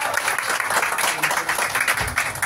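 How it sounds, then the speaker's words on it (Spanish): Applause from a small crowd at a birthday party with a mariachi band, a dense steady patter of clapping filling the whole stretch at a fairly loud level. "ese fuerte aplauso que sea para ustedes"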